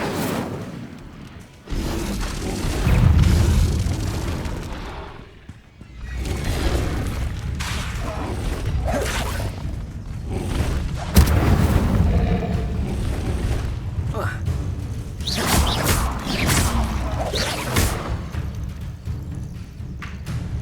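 Incendio fire spells blasting in Hogwarts Legacy, a series of heavy booming whooshes and bursts mixed with other spell impacts, over a loud game soundscape, while spoken voices come and go.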